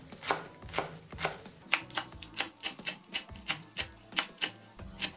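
Knife rapidly and thinly slicing celery and green onion stalks on a cutting board, a steady run of crisp, evenly spaced chopping taps, close and clear with no talking.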